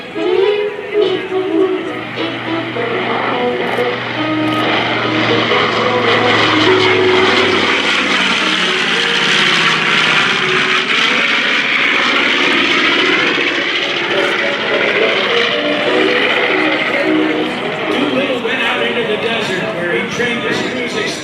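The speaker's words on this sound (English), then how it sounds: "from the right, here's the B-25 Panchito" The B-25 Mitchell bomber Panchito sweeps past at an airshow, its Wright R2600 radial engines swelling into a loud, rough propeller roar that peaks and then pulls away, with a public-address announcer speaking over it.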